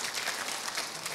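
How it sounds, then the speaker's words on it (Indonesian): A church congregation bursts into dense, steady applause during an Indonesian sermon, with many hands clapping at once in a brief, fairly loud burst and no voices standing out. "Tepuk tangan dulu dong buat Tuhan Yesus."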